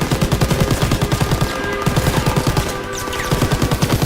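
Rapid automatic gunfire from the World War II shooter game Call of Duty: WW2 rattles in loud, rhythmic bursts that keep going almost without a break, with a brief lull near the middle.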